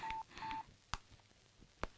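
A telephone number is dialed on a keypad, with two long tones followed by a few faint clicks and two sharp taps, all quiet with no talk.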